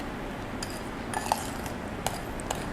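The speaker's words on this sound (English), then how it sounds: "And now all I have to do will be to stir the vanilla in." A spoon clinks lightly against a glass while stirring vanilla extract into a drink, giving a few soft, separated metallic taps over quiet room tone.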